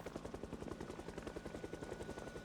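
A helicopter in the zombie survival game Project Zomboid passes overhead, its rotor giving a steady, fast rhythmic chop that stays loud and even for the whole stretch with no talk.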